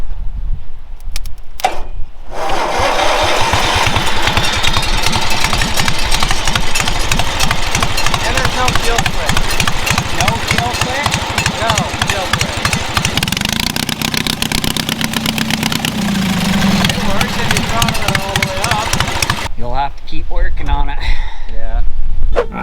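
A car's starter cranks and the engine catches, then settles into a steady rumbling idle for most of the stretch before cutting off near the end, with workshop clatter and people talking over it.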